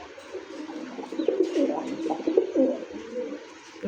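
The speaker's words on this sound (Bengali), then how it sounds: "এই মুহূর্তে দেখতে পাচ্ছেন খুব সুন্দর একটা মুখী কবুতর" Pigeons at a bird market coo continuously, soft throaty rolling calls overlapping close by with a low murmur of background noise and no talk.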